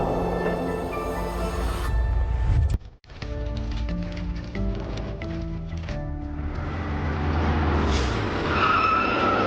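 A car skids with a loud, sustained tire screech up close, a brief sharp cut partway through, then a lower rumbling engine and scraping noise continue without any talk.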